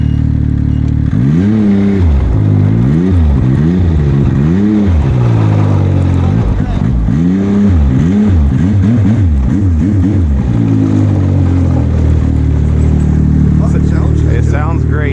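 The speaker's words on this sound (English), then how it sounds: "I like the sound of that exhaust." A Yamaha Sidewinder snowmobile engine, reflashed to 270 horsepower on pump fuel, revs up and down repeatedly in rising and falling sweeps, close by, with a deep rumbling exhaust note throughout.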